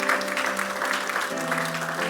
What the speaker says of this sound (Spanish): Dele ese aplauso fuerte al Señor porque Él es bueno.